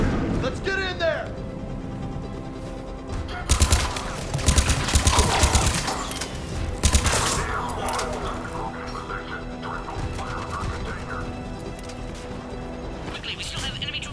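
Gunfire in the PS4 Mass Effect Legendary Edition, with bursts of rapid weapon fire amid clanking mechanical effects, loud in the middle stretch, while characters talk throughout.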